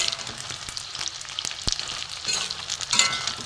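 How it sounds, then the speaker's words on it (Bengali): Paneer cubes frying in hot oil in a pan, a steady close sizzle and crackle with occasional spatter pops and a sharp clink of a utensil partway through. "একটু কড়া করে ভেজে নেব"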